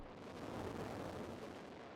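A harsh, heavily distorted synth bass with a gritty, pedal-like fuzz, played as a continuous dense roar that stays loud and even for about two seconds.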